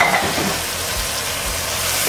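Black beans and chorizo sausage sizzle and fry steadily in a hot pan, a loud, continuous crackling hiss with stirring, close up and with no talk over it.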